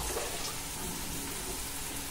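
Water is poured into a pot for fish-head carp soup, a steady close splashing rush with no pauses and no talking.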